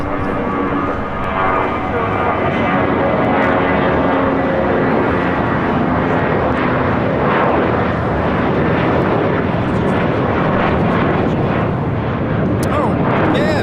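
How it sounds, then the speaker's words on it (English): A Spirit Airlines Airbus A319 takes off at LAX, its engines a loud, broad roar that holds steady throughout, with people talking over it. "This is Spirit Airlines 591 taking off to Houston Intercontinental on an A319"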